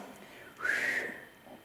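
A person in an old castle jail attempts a whistle, producing one short, wavering whistled note of about half a second that rises out of quiet room tone and fades, with no talking.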